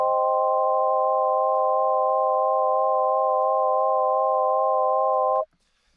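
Steady synthesized tone from Ableton's Operator synth with a fast, shallow vibrato, holding one pitch evenly for about five seconds before cutting off abruptly into near silence.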